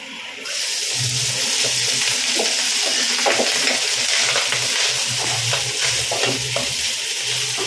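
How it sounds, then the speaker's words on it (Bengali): Rice is tipped into a hot pan with cinnamon, cloves and a bay leaf for prawn fried rice. A sudden loud sizzle follows, then continuous frying crackle and scraping stirring strokes close by. "এবার এর মধ্যে আমি রাইসটাকে অ্যাড করছি।"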